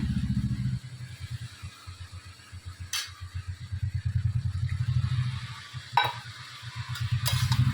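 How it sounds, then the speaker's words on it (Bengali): Pumpkin greens with moong dal being stirred in a pan, rhythmic low scraping strokes over a soft sizzle and a few sharp clinks, no one talking. "শাকটা আবার ভালো করে একটু নাড়াচাড়া করে নিলাম।"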